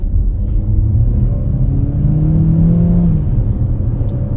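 The 1.8-litre EcoBoost engine of a 2024 Ford Territory on the move, a steady loud low rumble with road noise and a faint whirring tone that rises slightly, no talking.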